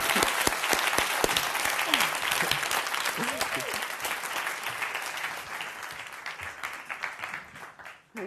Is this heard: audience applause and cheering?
yes